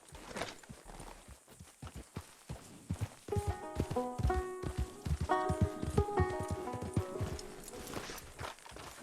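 Horse hooves clip-clop steadily while riding in the video game Red Dead Redemption 2, a continuous walking-to-trotting rhythm up close, joined midway by layered game music tones; no talking.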